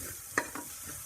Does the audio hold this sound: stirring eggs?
yes